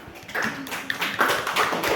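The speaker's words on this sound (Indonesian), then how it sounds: "Tepuk tangan dulu, tepuk tangan." Schoolchildren in a classroom clap together during a lesson, producing a scattered, uneven patter of claps at moderate loudness that lasts throughout.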